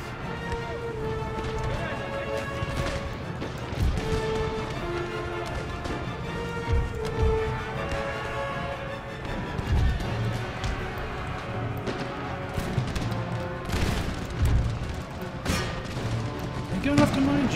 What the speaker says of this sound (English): Let's get our artillery to engage.